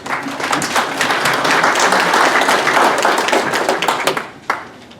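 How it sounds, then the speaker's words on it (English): An audience at a business community meeting applauds Rotary Club guests, dense clapping from many hands sustained at full level, then thinning out with a few last claps near the end. "Please give them a round of applause"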